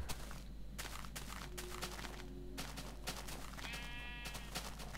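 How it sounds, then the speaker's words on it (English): Sheep bleating in the Minecraft video game, a few short game bleats over steady background game sound with faint footstep-like tapping. "I'm like walking past all these sheep"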